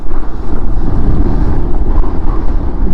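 Strong wind buffets the microphone at a hilltop viewpoint on a rocky hill in Karnataka, a loud continuous low roar with gusty swells and no speech.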